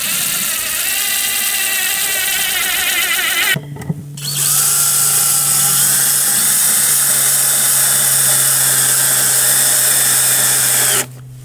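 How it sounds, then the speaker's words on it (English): A power drill with a countersink bit whines steadily at close range drilling screw holes, stops briefly for a second, then runs again for several seconds at a slightly different pitch before cutting off. "I'm going to be using my countersink bit to drill these out"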